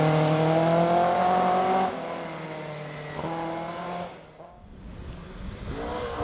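A 1600cc to 2000cc Class C3 rally car on a Mid Wales forest stage, its engine revving hard with a strong tonal whine. The pitch drops at a gear change, climbs again, then fades away before returning.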